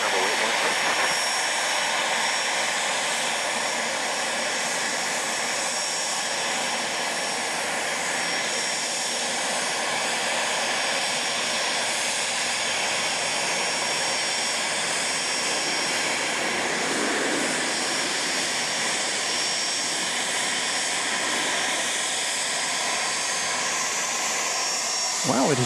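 Aircraft noise at Dallas Love Field, a steady broadband roar of engines that holds loud and even across the whole stretch, with faint voices beneath it.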